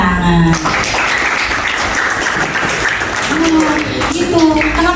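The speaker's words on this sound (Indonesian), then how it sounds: "Berikan tepuk tangan." Students in a classroom break into a few seconds of broad, busy clapping, with voices talking and calling out over and around it.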